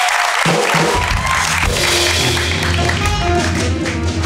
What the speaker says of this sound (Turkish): Mina'yı alkışlıyoruz.